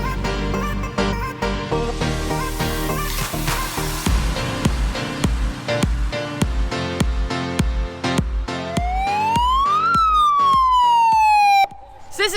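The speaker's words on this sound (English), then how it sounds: "he was the one that was going around doing the siren while we were trying to interview Dave" A siren wails and sweeps up and down at a 4x4 off-road campfire gathering, loud and close over a rhythmic pulsing drone.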